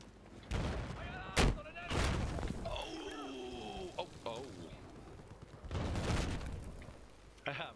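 Bursts of Battlefield 4 multiplayer gunfire crack out in short, loud volleys scattered across the moment, mixed with booms and game effects while players talk in between.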